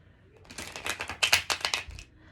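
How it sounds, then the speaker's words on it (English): A rapid riffle of cards being shuffled, a quick run of crisp flutters building then tapering off, close and clear with no talking. "now let's go ahead and shuffle"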